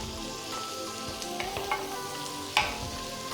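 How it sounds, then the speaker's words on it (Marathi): Garlic sizzles in melted butter in a pan, meant for a surmai fish fry, giving a steady close crackle with a few sharper pops and stirring clicks, no voices. "याच्यामध्ये डायरेक्ट घालायचं आहे आपल्याला लसूण"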